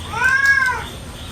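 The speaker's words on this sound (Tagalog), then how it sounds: "Mama ng mama yung pusa." A cat meows once, a single drawn-out, rising-then-falling call lasting under a second, heard up close against a quiet indoor background.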